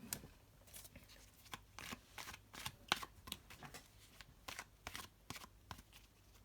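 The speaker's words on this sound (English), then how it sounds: "I've already shuffled the cards and meditated, but I'll do a little bit more of that on camera" Tarot cards shuffled by hand close up, a steady series of soft riffling and slapping bursts in an irregular rhythm, quiet and alone without talk.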